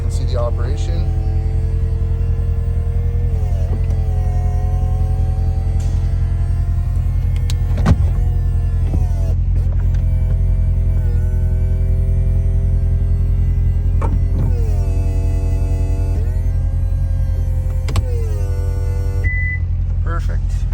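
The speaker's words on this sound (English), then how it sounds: "I'm going to go ahead and put the top up so you can see the operation" A 2017 Corvette C7 Grand Sport convertible's power top raises, its electric motors whining in several rising and falling stages with mechanical clunks between them, over a low steady engine idle.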